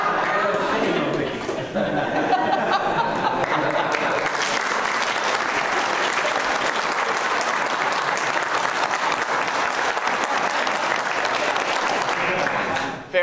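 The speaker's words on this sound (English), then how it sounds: "Or a sitting ovation." A church congregation at Sunday worship gives a seated round of applause that starts with a few claps, swells into sustained, steady clapping for about twelve seconds, then stops abruptly, with some chatter and light laughter mixed in.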